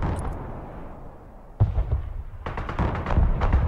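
Weapons firing in Broken Arrow, a modern military strategy game, come as sudden sharp bursts and booming reports, with one hard impact followed by a rapid cluster of loud shots and rumbles after a quieter stretch.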